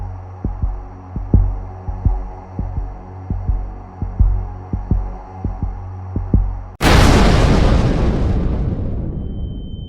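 A Taskmaster task ends in an explosion. A run of regular, muffled thumps like a heartbeat builds up, then a single loud blast bursts in and fades away slowly.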